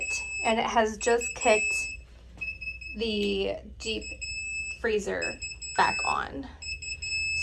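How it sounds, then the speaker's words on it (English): An Inkbird ITC-308 temperature controller alarm beeps in a high steady tone, repeating through the whole stretch beneath someone talking nearby. "You will hear the alarm because we have this outside of it"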